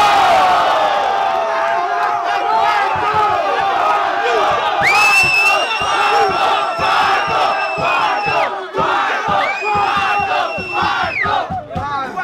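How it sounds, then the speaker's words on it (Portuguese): A large crowd at a Brazilian freestyle rap battle final cheers and shouts loudly, with whoops and high-pitched yells rising above a continuous roar of voices. "Barulhos, barulhos pra quem gostou das rimas do Mota"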